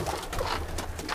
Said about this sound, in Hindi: चलो चलो मेरे प्यारे कबूतरों बाहर आओ